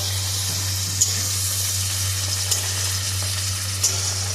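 Onions and tomatoes sizzle in a pan for a potato and egg curry, a steady moderate frying hiss with a few soft stirring clicks and a constant low hum underneath, no talking.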